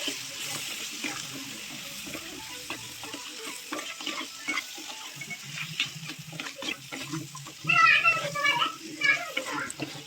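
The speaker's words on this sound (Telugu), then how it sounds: "పీతల్ని టమాటాలు ఉడికిన తర్వాత ఒకసారి కలుపుకొని పీతల్ని అందులో వేసేసుకొని కలుపుకోవాలి." Crabs being stirred into cooked tomatoes in a pan for crab curry, continuous sizzling with scraping and clatter of the stirring, a voice speaking intermittently over it.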